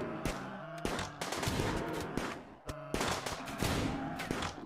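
Video game gunfire in RimWorld, rapid bursts of shots and volleys in two dense stretches separated by a short pause, loud and close, with no talk over it.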